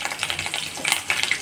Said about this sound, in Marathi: आता आपलं तेल कडक झालंय, त्याच्यात टाकली जिरी, मोहरी, 2 मिरच्या टाकल्यात